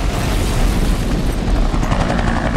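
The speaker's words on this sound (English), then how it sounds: "We have the helicopter coming up over the hill." A helicopter from an action-film stunt scene with Humvees and explosions, a loud, steady rotor roar with a dense low rumble filling the whole stretch, no talking.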